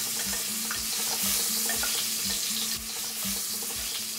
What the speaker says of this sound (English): Saute the ginger and shiitake mushrooms to bring out their aroma.